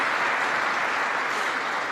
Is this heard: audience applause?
yes